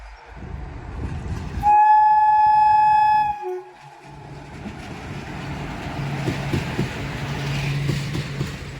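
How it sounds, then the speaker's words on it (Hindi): A train horn blares loudly for about two seconds with a steady tone at Bhiwandi Road railway station, then the rumble of the passing train continues underneath. "फुल अपनी सीटी बजाते हुए हॉर्न के साथ आगे बढ़ रही है।"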